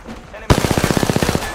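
A rapid, close burst of automatic gunfire in the video game Apex Legends, about a dozen evenly spaced shots following a quieter moment.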